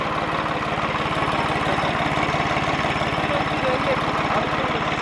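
A turbocharged 855 tractor engine runs steadily close by, a loud, even rumbling throb with a constant rhythmic pulse throughout, people talking over it.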